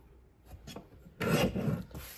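Cardstock trimmed on a paper trimmer for a card kit: a couple of light taps, then a loud rasping slide of the blade across the paper, close and alone.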